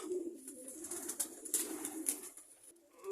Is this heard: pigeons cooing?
yes